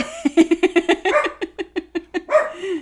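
A puppy gives a rapid run of high yips and whimpering barks, close and clear, about a dozen short bursts in under three seconds with no talking.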